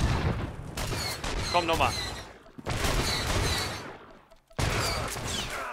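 Blaster gunfire in Star Wars: The Old Republic crackles in rapid bursts with short gaps between volleys, while someone talks briefly over the shooting.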